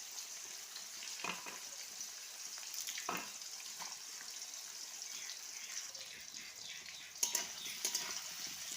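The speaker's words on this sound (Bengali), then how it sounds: "তো মোর পেঁয়াজ ভাজা হয়ে গেছে" Onions sizzling in oil in a wok for a mutton curry, a steady close crackle with a few scraping stirs and a sharp clatter near the end, no one speaking.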